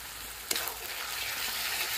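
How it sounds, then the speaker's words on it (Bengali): Spices, tomato paste and salt fry for a tuna fish masala curry, giving a steady close sizzle with a single sharp clink or stir early on, no voices. "সব কিছু মশলা আর একটু ভালো করে কষে নেব"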